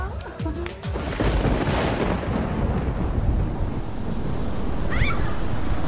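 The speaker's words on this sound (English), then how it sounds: "Yeah, it's raining." Steady rain pours down during a thunderstorm, a dense continuous hiss with low rumbling thunder beneath, while people speak over it.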